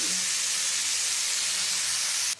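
Chopped water spinach hits hot oil with fried garlic, giving a loud, steady steaming hiss that holds evenly for about two seconds before cutting off abruptly; no one speaks.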